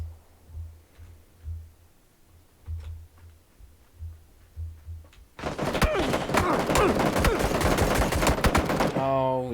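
Gunfire in the video game PUBG: quiet ticking shots at first, then a loud sustained burst of dense rapid fire taking over the second half, with a rising tonal sweep near the end.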